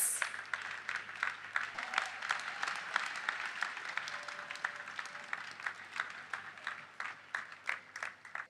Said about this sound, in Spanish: Vamos a aplaudir al maravilloso Jesús